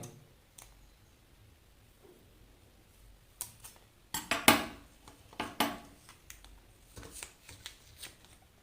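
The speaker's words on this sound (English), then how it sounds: "So according to the length of the magnet we will cut the tape." Tape is cut to the length of a magnet for a DIY coil project, heard as a few faint scrapes followed by sharp, close snipping and rustling bursts clustered in the middle and end.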